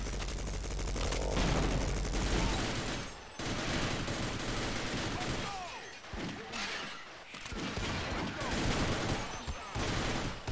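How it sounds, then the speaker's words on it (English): A minigun firing in Sven Co-op, sustained loud rattling bursts with crashes and thuds mixed in, the barrage briefly pausing and resuming, close and chaotic. "Watch out, minigun!"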